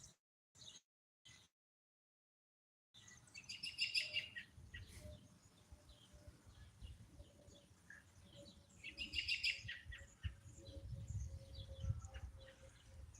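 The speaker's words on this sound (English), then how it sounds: "You can hear the birds." Birds chirp and tweet outdoors in a quiet setting, with bursts of bright calls recurring over soft background rustle.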